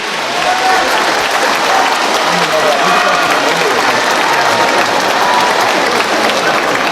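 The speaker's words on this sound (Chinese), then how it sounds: "我们再次掌声响起。" Loud, steady audience applause fills a concert hall at a Yue opera performance. The dense clapping continues without pause from start to finish.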